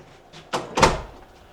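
A door opens at the entrance of the historic Fort Union trading post, giving a couple of short knocks and thuds followed by a louder creaking swing, close by with no talk.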